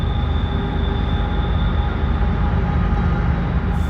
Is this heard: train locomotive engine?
yes